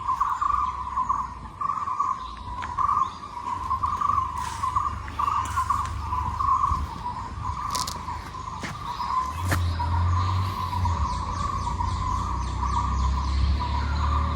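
Rhythmic bird calling in the hills at Yercaud, a steady high-pitched repeating call running continuously over a low background rumble, with brief sharper chirps now and then.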